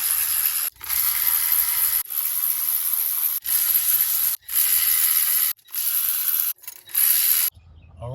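A ratchet wrench loosens the 10 mm bolts on the engine cover of a 2007 Chevrolet Suburban, in repeated loud, buzzing bursts of about a second each separated by short pauses, close by and with no talk.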